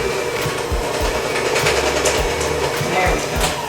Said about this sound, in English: the dough is stuck in the mixer